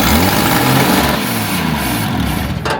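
A Ford XL Falcon ute with a freshly rebuilt carburettor runs hard and close, a loud, steady, high-revving engine roar that cuts off sharply just before the end.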